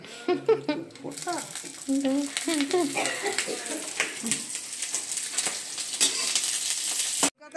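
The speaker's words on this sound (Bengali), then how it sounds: "এখন আবার চলছে রসুন পোড়া আর লঙ্কা" Garlic and chilli fry in oil at an outdoor picnic cooking spot, a steady sizzle running throughout, with birds chirping and voices talking nearby over the frying.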